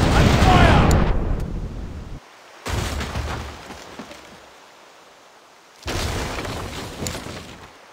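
Cannons booming from a pirate ship in a mobile game, with two or three heavy, loud blasts separated by short gaps. Each blast trails into a rumbling decay.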